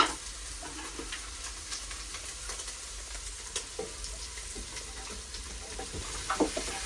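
Chopped leeks sizzle in a pan on a woodstove, a steady low frying hiss with scattered clicks and scrapes of stirring, close and fairly quiet.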